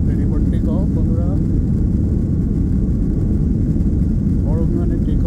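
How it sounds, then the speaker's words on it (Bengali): A Malaysia Airlines Airbus A330-300 at Dhaka Airport roars at full takeoff power, its loud, steady engine rumble heard from inside the cabin, with a few faint chirps on top. "সো আমাদের এয়ারক্রাফটের সম্পূর্ণ শক্তি নিয়ে দেখতে পাচ্ছেন আমরা টেক অফ করার উদ্দেশ্যে যাচ্ছি।"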